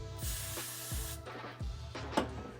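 Several quick hissing spritzes from a spray bottle onto an edge control brush while a lace wig is being installed, close and soft, in an uneven rhythm with faint handling noises.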